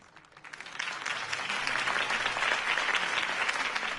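A crowd bursts into applause, swelling quickly from a soft start into sustained, dense clapping that carries on steadily.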